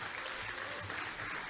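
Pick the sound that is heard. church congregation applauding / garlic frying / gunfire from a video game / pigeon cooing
church congregation applauding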